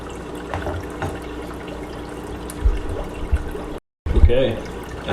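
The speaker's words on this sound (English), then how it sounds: "I'm filling this one up now too with the remineralized water" Remineralized water pours into a shrimp aquarium for Neocaridina shrimp, a steady splashing trickle with a brief break, while a person talks over it.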